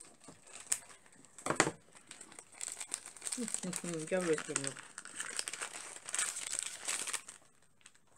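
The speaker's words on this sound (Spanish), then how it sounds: "dame las tijeras que no quiero romper tanto papel" Wrapping paper crinkles and tears continuously as a parcel of resin-craft supplies is unwrapped, with voices talking over the rustling throughout.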